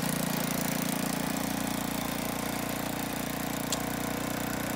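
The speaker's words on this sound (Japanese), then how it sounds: "チョークを戻せばアイドリングしてくれました。" A restored Honda Cub 90 engine idles steadily at close range, its small single cylinder giving an even, rapid putter. The sound carries on for about five seconds with no voices.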